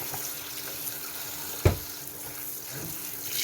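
Tap water runs steadily over sweet potato stems being washed in a sink, a constant close hiss of flowing water with one sharp knock partway through.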